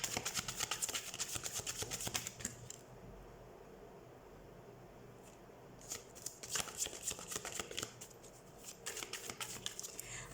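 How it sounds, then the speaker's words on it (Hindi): Tarot cards being shuffled by hand up close, a bright riffling flutter in several bursts separated by brief quieter gaps, with no talking. "तो सबसे पहले हम कार्ड शफल"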